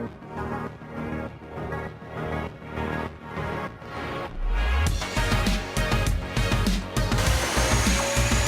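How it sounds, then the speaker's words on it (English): A Karcher WD 1 wet-dry vacuum fitted with only its sponge filter for liquid pickup starts up partway through, its steady broadband motor roar swelling loudly over a quieter pulsing background, with no talking. "This will allow you to safely vacuum liquids."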